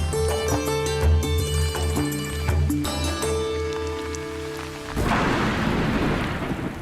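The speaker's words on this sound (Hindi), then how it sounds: "बारिश की रिमझिम फुहारों को ही लीजिए।" Heavy rain sets in over farm fields, a dense hiss that takes over in the final seconds after a few seconds of tonal music; no distinct thunder clap stands out.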